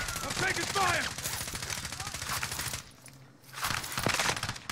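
Gunfire in the shooter game Call of Duty Warzone comes as rapid bursts of shots, with a short gap before more firing, mixed with other game sounds.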